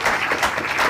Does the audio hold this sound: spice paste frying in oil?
no